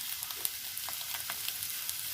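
Carrot, beans and capsicum stir-fry for egg fried rice, a steady bright sizzle with occasional scrapes and clinks of stirring, close and continuous without any voices.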